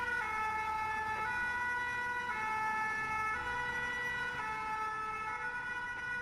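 A Titan fire engine siren wails continuously in a road tunnel, its rising and falling tones repeating about once a second, loud and close throughout.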